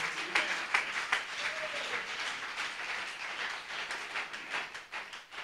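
Congregation at a church revival service applauding, a steady patter of many hands clapping at moderate distance, with scattered voices underneath.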